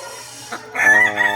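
A gamefowl rooster of the Bone Crusher hatch lets out a single loud, close crow, starting with a short rising note and swelling into a harmonic, drawn-out call.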